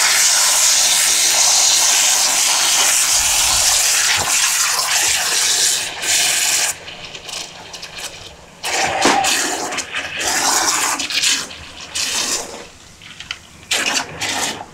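Water runs from a tap while fruit or containers are rinsed during homemade sour cherry liqueur making, a loud continuous hissing stream that stops and restarts in bursts.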